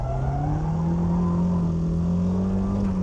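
A BMW drifting with the e-brake holds a steady engine drone whose pitch rises slowly as the car revs through the slide, loud and continuous.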